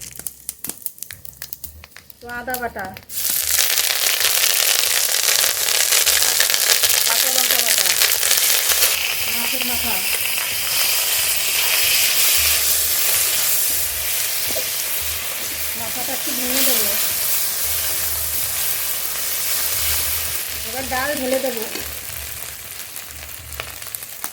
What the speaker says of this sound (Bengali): কড়াইতে সর্ষের তেল ডাল ফড়ন করে নেব তেজপাতা শুকনো লঙ্কা পাঁচফোড়ন